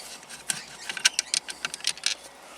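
A screwdriver turns screws on a Toyota Tarago steering wheel, giving quiet, close ratcheting clicks in short irregular bursts.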